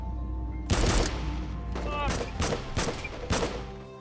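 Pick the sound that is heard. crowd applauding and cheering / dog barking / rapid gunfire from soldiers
rapid gunfire from soldiers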